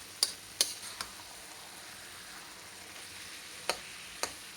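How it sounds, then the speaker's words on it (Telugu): Grated pumpkin frying in ghee with cashews and raisins for halwa gives a faint, steady sizzle, with a few sharp clicks from a spoon against the pan. "ఇందులో నెయ్యి వేసుకొని జీడిపప్పు, ద్రాక్ష వేయించుకొని తర్వాత ఈ తురుము వేసి, గుమ్మడికాయ తురుము వేసి వేయిస్తున్నాను"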